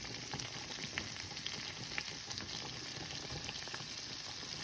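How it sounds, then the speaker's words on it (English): Onions sizzle and crackle steadily in a pan of butter and olive oil over moderate heat, a dense continuous frying hiss with small pops scattered throughout, close and alone. "I'm going to introduce my onions."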